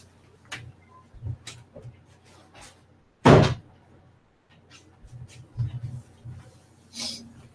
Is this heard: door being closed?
yes